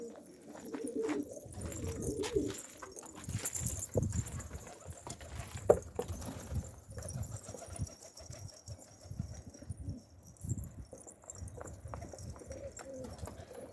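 Pigeons released near a loft rooftop, with soft cooing and wing flaps scattered across a moderately quiet outdoor scene, one sharper flutter standing out midway.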